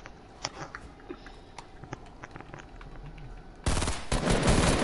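Video game gunfire: scattered single shots and clicks give way to a loud, sustained automatic burst near the end, close and dominant.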